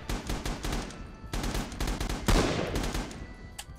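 Type 99 machine gun fire in the video game Red Orchestra 2, several sharp bursts of rapid automatic shots separated by short pauses, loud and close, with no talking.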